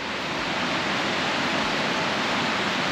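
Small mountain creek at a campground in the Brindabella Ranges, NSW, flowing steadily near the microphone as a continuous broadband rush of water with no break or talk.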